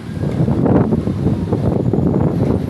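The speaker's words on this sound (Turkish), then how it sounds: "rüzgar şiddetini arttırdı" Strong wind roars against the microphone in loud, continuous gusty rumbling with no other clear sounds.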